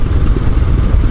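Royal Enfield Himalayan adventure motorcycle engine chugging steadily, a loud, close, continuous low rumble with no talk over it.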